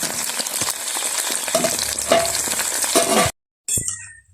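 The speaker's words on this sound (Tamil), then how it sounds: "வெண்டிக்காய் வந்து இதுதான் பொரியுது, இன்னும் ஹீட் காணாது." Okra sizzling steadily as it fries in hot oil in a village kitchen, a dense continuous crackle with occasional louder pops and stirring clinks, broken by a brief silence near the end before the frying resumes.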